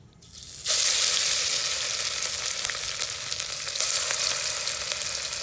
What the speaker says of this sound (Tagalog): Ito guys, mainit na yung kawali guys. Ilalagay na natin itong minarinate ko guys.